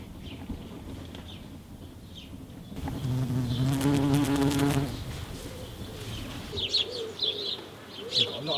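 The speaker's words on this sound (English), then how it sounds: "Can you hear all the sparrows that are in the hedge?" Sparrows chirp from a hedge beside a wood at a UK beekeeping site, faint scattered calls rising near the end over a steady outdoor hum, while a close insect buzz swells briefly in the middle.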